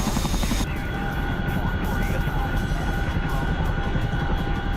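A Chinook helicopter in the DCS flight game gives a loud, steady rotor drone and engine roar, with a brief change in tone early on.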